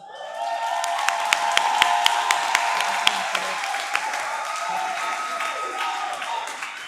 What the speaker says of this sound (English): can the boys football and girls flag football please stand for a round of applause?